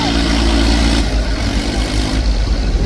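A tractor engine chugs steadily nearby at a lake embankment, a loud low rumbling idle with slight rises in pitch, heard alone without talk.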